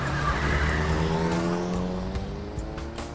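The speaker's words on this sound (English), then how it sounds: "Kimizuka stepped on the gas." Game car from 428 Shibuya Scramble pulling away with a loud, sustained engine note and tire squeal that slowly eases off, with no talk.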